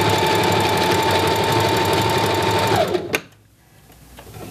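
A sewing machine stitches elastic for ruffles in a steady, loud, continuous run that stops abruptly near the end, followed by a brief clunk and quiet.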